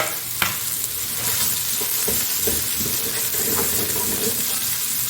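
Onions frying on a medium flame in a pan for vegetable fried rice, a steady loud sizzle with occasional stirring clicks and scrapes throughout, no talk.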